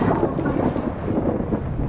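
A thunderstorm gives off a low, continuous rumble of thunder mixed with rain hiss, steady and fairly distant throughout, with no voices.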